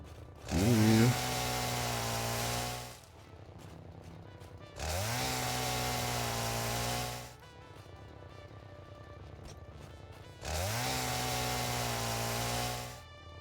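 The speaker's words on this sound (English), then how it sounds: "I'm just gonna chainsaw a bunch first and then pick up the bushes after, I guess." Chainsaw in the video game Satisfactory, three loud cutting bursts each revving up, holding a steady whining buzz for about two seconds, then dropping back to a low idle between cuts.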